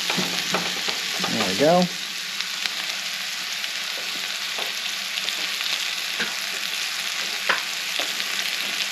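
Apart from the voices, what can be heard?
food frying in oil in a non-stick pan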